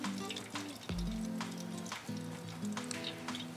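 Grouper fillet frying in hot oil, a steady crackling sizzle with scattered pops, heard close and fairly quiet under a low background hum.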